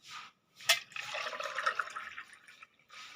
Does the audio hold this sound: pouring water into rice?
yes